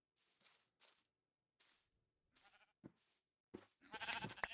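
Sheep bleating in Minecraft, several short separate bleats in sequence, closing with a louder, denser cluster as more sheep join in, no speech.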